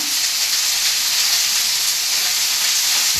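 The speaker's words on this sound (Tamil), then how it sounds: "நான் மசாலாலாம் சேர்க்குற வரையும் வறுத்துக்கிட்டே இருக்கிறேன்." Food fries in a pan for a home-style South Indian lunch before spices go in, giving a steady, close, even sizzling hiss that holds at the same level throughout with no pauses.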